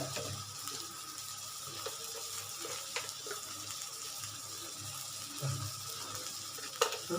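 Taro leaf curry with spices being stirred in a pan at home, a faint, steady sizzle with soft scraping and occasional clinks of the spoon against the pan.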